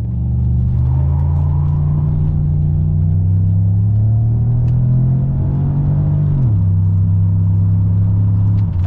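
A 2006–2007 Chevrolet Monte Carlo SS with the LS4 V8 pulls hard from a standstill after a brief burnout, its loud, steady engine roar rising through the gears with one shift dip before it keeps climbing, close and unbroken, with no talking.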